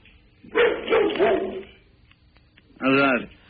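A pet dog barks into a phone during a radio show call, with two separate bursts, a longer run of barks followed after a pause by a shorter one, close and fairly loud.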